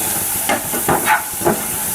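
Soaked chana dal tipped into softened, cooked tomatoes in a hot pan for a ridge gourd curry, giving a steady close hiss and sizzle with a few brief louder surges of steam.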